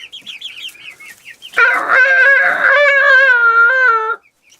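A man imitates a rooster crowing, a single loud, drawn-out cock-a-doodle-doo with a wavering pitch, preceded by softer clucking vocal sounds and then silence.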